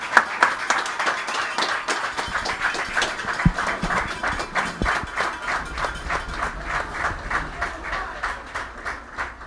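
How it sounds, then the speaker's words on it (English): A football game crowd applauds veterans on Veterans Day, brisk rhythmic clapping from many hands carrying on steadily through an outdoor stadium with low rumble beneath. "show our gratitude with a round of applause"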